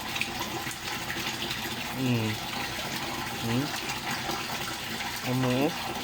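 Farmed catfish splashing and churning in water as they are fed fresh meat, a continuous loud wash of water with bursts of activity, while someone speaks over it.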